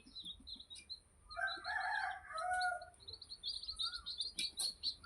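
A backyard rooster crows nearby among chickens, with repeated higher chirps and clucks from hens and young chicks scattered through the scene.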